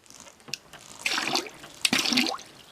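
Water gushing from a hand pump sink in two short strokes, each a splashing burst into the basin after a faint click, close and fairly quiet, with no talking.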